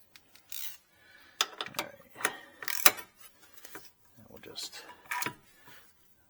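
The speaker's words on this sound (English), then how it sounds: "So let's put the plug back in." A wrench ratchets the oil drain plug back into a Corvette C5, with a series of close, brief clicking bursts spread irregularly across the stretch.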